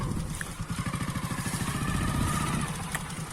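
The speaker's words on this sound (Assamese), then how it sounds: "বাইক ষ্টাৰ্ট দিলে" A father's motorcycle runs close by after starting, its engine putting out a steady, rapid low chugging pulse with a faint clatter that holds through the whole stretch.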